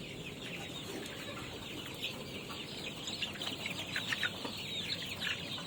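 Village chickens (ayam kampung, KUB breed) cluck and chatter in a coop, soft repeated clucks over a steady background hiss, growing a little busier toward the end with no one talking.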